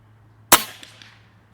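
A JTS Airacuda Max .30 caliber air rifle fires a single sharp, loud crack at a paper target, close and alone, with a short decaying tail after the shot.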